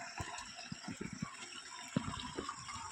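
Water flows among carved-looking rocks, a faint, close gurgle broken by small splashing pulses, with no voices.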